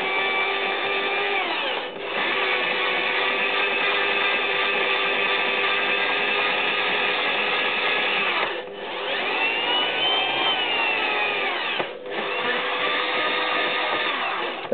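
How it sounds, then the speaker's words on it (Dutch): Power drill driving a grinding bit into a 650 motorcycle cylinder head, a loud steady whine that runs almost continuously, broken by three brief dips as it pauses and spins back up. "Daar gaat hij weer slijpen. Ik hoor hem opkomen."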